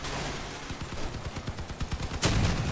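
Vehicle-mounted gun in the game Crossout fires a steady burst of rapid shots, close and loud, ending in a sharper heavy blast.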